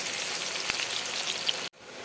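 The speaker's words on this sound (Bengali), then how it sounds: "খুব ভালো করে ভেজে এটাকে আমি তুলে রাখবো" Onions frying in hot oil for a Bengali rui fish kofta curry, a steady dense sizzle with crackling pops throughout, briefly cut to silence near the end before resuming.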